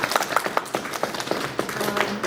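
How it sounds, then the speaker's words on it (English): A round of applause at a student government general body meeting for the interim speaker, a roomful of hands clapping in a brief, steady burst with a faint voice underneath. "just another round of applause to interim speaker Sajal for leading the meeting in my absence"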